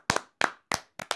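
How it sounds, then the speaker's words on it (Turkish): A small group of people claps four quick times, each a short pair of sharp, close hand slaps with brief pauses between, celebrating the winner of an archery contest. "Evet arkadaşlar, Kıvanç'ı alkışlıyoruz"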